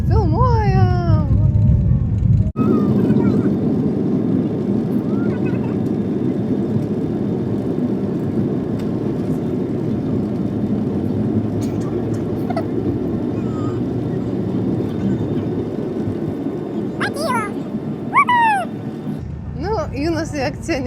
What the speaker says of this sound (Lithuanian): Tai vat norėjau nufilmuoti gal Jūnos reakciją, kai kils lėktuvas.